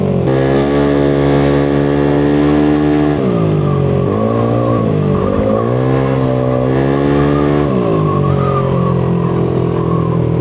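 A Yamaha Aerox scooter engine with a hard-starting problem starts and revs loudly up close, its tone climbing, dipping and surging in repeated throttle blips over a steady running drone.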